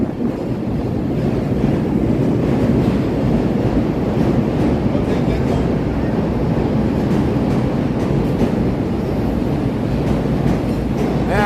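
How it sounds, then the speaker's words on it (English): A Chicago elevated train rounding the bend on Lake Street from Wabash: a loud, sustained rumble and rattle of wheels on the track, close by and steady throughout, with some wind buffeting on the microphone and no talking. "There's the train round in the bend here on Lake Street from Wabash"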